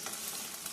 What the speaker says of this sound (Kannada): ಚೆನ್ನಾಗಿ ಉರ್ಸೋತೀನಿ